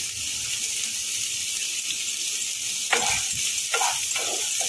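Finely chopped carrots and beans fry for upma with a steady, loud hiss of sizzling, then a few scraping stirs of the spoon come through near the end.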